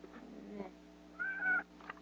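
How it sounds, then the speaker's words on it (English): A house cat gives a single short, faint meow, heard quietly against a low hum and room noise. "Get down, you stupid cat."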